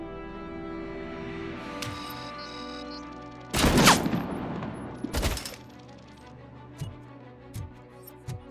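Sniper gunfire in the Robocop Rogue City video game, with two sharp, loud shots a second or so apart over a humming background and faint ticks afterward.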